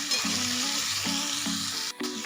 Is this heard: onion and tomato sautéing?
yes